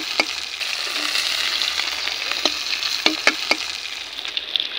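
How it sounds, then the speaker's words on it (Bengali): Tilapia fish fries in hot oil in a rustic village kitchen, a continuous close sizzle with sharp pops and crackles that spike now and then. No one talks. "আমি কিন্তু মাছটা খুব সুন্দর লাল লাল করে ভেজে নেবো"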